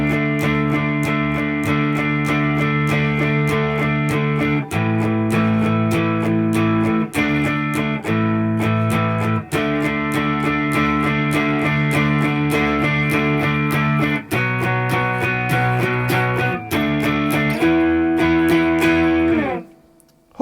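Distorted electric guitar strums the chorus power chords of a song, steady driving downstrokes with brief chord changes, loud and alone, ringing out at the end.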